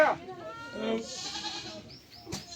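Goats bleat at a busy village goat market where animals are auctioned, one wavering cry near the start and others fainter through a noisy crowd with people talking.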